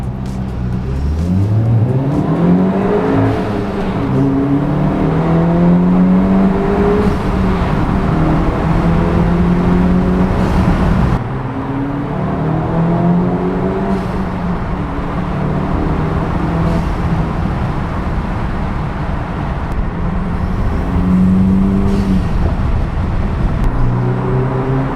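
A VW MK8 GTI fitted with a Unitronic carbon fibre air intake is driven hard, its engine revving repeatedly up through the gears with rising, sustained loud tones and brief dips at each shift.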